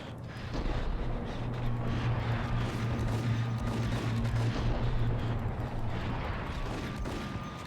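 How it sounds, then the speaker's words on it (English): Gunfire rattles through a shootout in the Max Payne video game, a loud continuous barrage of overlapping shots and booms with a droning tone underneath. "Nope, you're still shooting at me."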